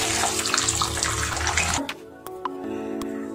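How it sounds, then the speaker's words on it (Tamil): Water pours steadily onto biryani rice in a bowl to soak it, a loud close splashing stream that stops partway through, followed by a few small clinks and drips. "இந்த பிரியாணி ரைஸில் நம்ம வந்து கொஞ்சம் தண்ணி ஊற்றி ஒரு 1/2 hour ஊற வச்சிடலாம்"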